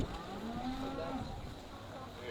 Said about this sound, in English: Here's the Angus cattle.